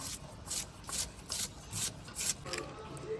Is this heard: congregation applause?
no